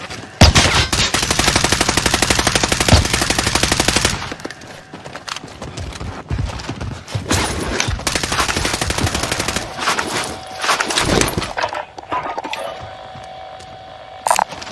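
Loud, rapid automatic gunfire in Call of Duty Modern Warfare Warzone: a long continuous machine-gun burst for the first four seconds, then further bursts and single shots, with brief quiet gaps and a final sharp shot near the end.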